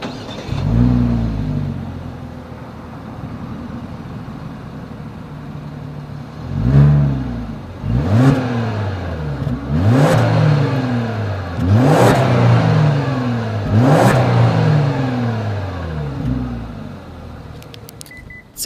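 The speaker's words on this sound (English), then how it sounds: "As always, here is that exhaust clip." A 2020 Genesis G90 exhaust revs repeatedly, several sharp throttle blips rising and falling over a rumbling idle, loud and close.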